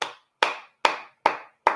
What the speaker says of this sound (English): you need to clap for yourself